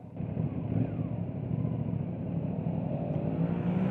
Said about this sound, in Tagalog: Dito mamakikita ang mga 4x4 na sasakyan papunta doon.